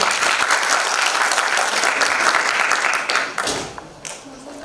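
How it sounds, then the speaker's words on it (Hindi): An audience at a farewell ceremony for a computer centre gives loud, dense applause that carries steadily for about three seconds, then thins out and fades into scattered claps. "प्लीज़ एक बार जोरदार तालियां हो जाए सकेंगे।"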